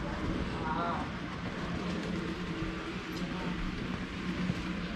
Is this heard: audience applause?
no